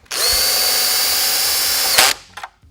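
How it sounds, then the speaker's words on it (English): A cordless drill with an adjustable clutch whines loudly at a steady pitch for about two seconds while tightening studs on a 2014-17 Toyota Tundra. It ends in a short burst of clutch clatter and then stops. "use a drill with an adjustable clutch"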